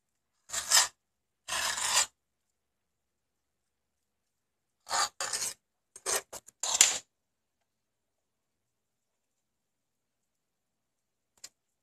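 Fat and skin being peeled away from smoked pork belly, several short tearing, rasping bursts, some single and some in quick clusters, separated by silence.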